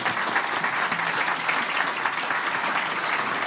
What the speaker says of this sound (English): stand and give an applause to the youngsters